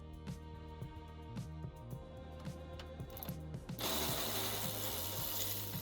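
Ratchet wrench clicking in quick repeated strokes while a compression rod is removed from the control arm of a Datsun 280Z during a coilover install, close and clear, with a denser burst of clicking toward the end.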